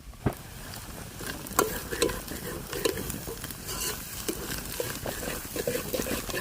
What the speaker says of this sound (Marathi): मसाला घातल्यानंतर वाटण चांगलं आपण तेल सुटेपर्यंत परतून घेऊया